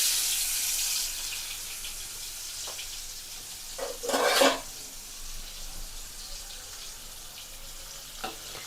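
A piece of fish drops into hot oil in a new kadai. A soft sizzle begins, then a short loud burst of spattering frying, and it settles back into a quiet, steady crackle.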